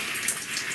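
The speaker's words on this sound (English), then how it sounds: "I'm just trying to rinse out the product" Running water during a wash-and-go hair rinse, a steady hissing spray with no break, fairly loud and close.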